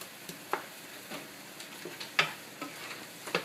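Tomato paste cooking in a pan gives a quiet, steady sizzle, broken by several soft clicks and scrapes spaced irregularly through it.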